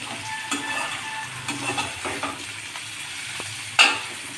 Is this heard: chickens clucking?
no